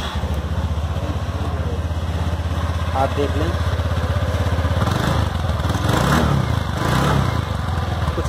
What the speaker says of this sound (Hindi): अब मैं आपको इस स्कूटर को स्टार्ट करके दिखा देता हूँ कि इसका साउंड कैसा है।